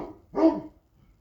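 A single short bark from a household dog, close and moderately loud, quickly fading into quiet.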